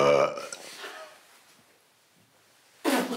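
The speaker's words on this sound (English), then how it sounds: "This is serious burping." A loud, rough burp opens at close range and trails off into quiet, then another abrupt burst of sound cuts in near the end during a burping audition.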